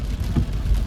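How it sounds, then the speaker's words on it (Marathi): Heavy rain pouring down on Mahim road, a steady broadband wash of falling water with a brief louder splash near the middle, close and continuous without voices. "माहीम रोडला खूप पाऊस आहे"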